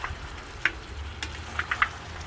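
Pork riblets frying on a disco pan, a faint steady sizzle punctuated by a few sharp crackles and pops.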